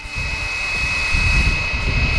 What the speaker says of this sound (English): the main rotor system will gradually accelerate until it reaches the specific preset RPMs configured in the flight controller